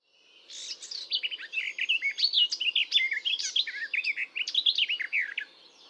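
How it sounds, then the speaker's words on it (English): Garden warbler song: a sustained, rapid, rich warbling run of varied scratchy and mellow notes lasting several seconds, close and clear over a faint background hum. "Garden warbler."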